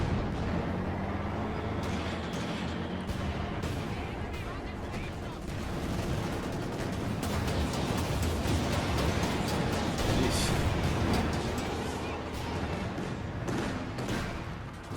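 A Pak anti-tank gun fires at a building during a Company of Heroes 2 battle, its shots buried in a constant, loud din of rifle and machine-gun fire and explosions.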